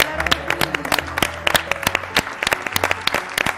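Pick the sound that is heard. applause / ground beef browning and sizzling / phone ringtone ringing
applause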